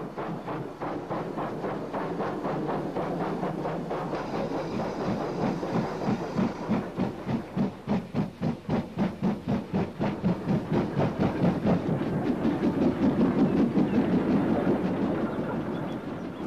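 A Great Western Railway light passenger tank engine chuffs in a steady, rapid rhythm as its local passenger train rolls past, with wheels clattering over rail joints and a breathy hiss underneath.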